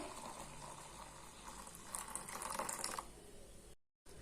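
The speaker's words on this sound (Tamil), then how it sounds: "நான் ஒரு ரெண்டு கப் அளவுக்கு தண்ணி ஊற்றுறேன்" About two cups of water pour steadily into a container for a few seconds, a soft continuous splashing, then cuts off abruptly before a brief return of sound.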